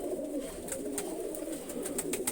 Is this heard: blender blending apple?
no